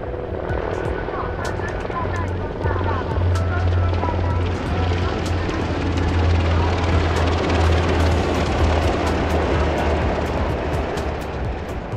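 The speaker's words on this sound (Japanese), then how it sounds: "続いては SH60K 哨戒ヘリコプターです。" An SH-60K patrol helicopter flies past during an international fleet review, its rotor and engine roar steady and loud throughout, with a faint rhythmic thump.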